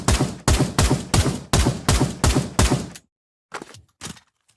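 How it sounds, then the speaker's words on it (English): The G8 rifle fires in the Pavlov VR game in a steady semi-automatic string of about eight loud, evenly spaced shots, then falls silent and ends with a few quieter metallic clicks and clunks. "I pull the trigger, holding it down. It's not automatic"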